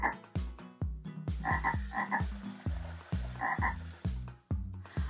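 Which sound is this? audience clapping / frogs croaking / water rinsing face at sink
frogs croaking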